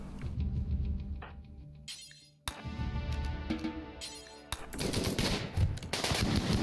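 Gunfire erupts in a RimWorld colony battle with rapid clustered shots and sharp cracks. Bursts start and stop with brief lulls, moderately loud, with no talking.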